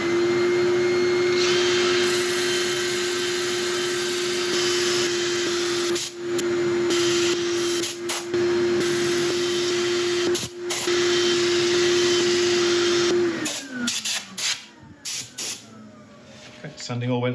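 A Milliput metallic epoxy resin inlay is sanded with a power sander, a loud, steady whining hiss with a constant hum that runs for a long stretch, broken by brief dips before it winds down and stops.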